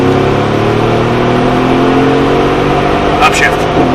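A supercar engine pulls hard under acceleration on a coned driving course, a loud steady roar with rising harmonic tones, heard close from inside the car.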